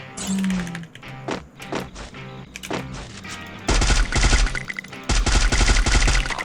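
FAMAS rifle fire in the video game Free Fire: loud bursts of rapid automatic shots, a few single reports first, then two long sustained volleys, with game sounds in between.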